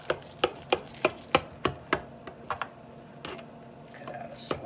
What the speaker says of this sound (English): Go ahead and cut this open